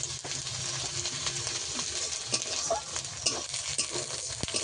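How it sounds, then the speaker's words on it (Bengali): Ginger paste and onion being fried and stirred in a pan of oil, a continuous close sizzle broken by scraping stirs and small clicks of the spatula throughout. "এই পর্যায়ে দিয়ে দেবো আদা বাটা। আদা পেঁয়াজ ভালো করে একটু কষিয়ে নেবো।"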